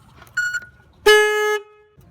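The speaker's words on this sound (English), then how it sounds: "Your alarm system will reset, and then the alarm will be triggered." A short electronic chirp, then after a brief pause a loud, steady horn-like car alarm blast sounds for about half a second, close by, as the alarm of a Proton Persona triggers after its battery is reconnected.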